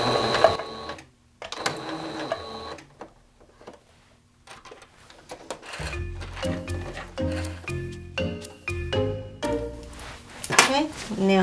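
A domestic sewing machine stitches the side seams of a tie-sleeve top in short rapid bursts of whirring and clicking. Someone talks before the stitching starts.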